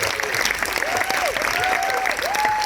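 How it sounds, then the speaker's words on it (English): A crowd claps steadily and warmly, with a few rising whistles cutting through the applause. "Can you please give a round of applause to Vanita?"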